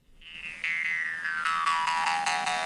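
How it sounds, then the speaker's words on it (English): A twangy, buzzing jaw harp note with a bending, wah-like tone that slides down while being plucked repeatedly, heard alone and fairly quiet. "like the sound of like a jaw harp"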